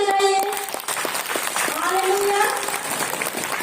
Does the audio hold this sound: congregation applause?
yes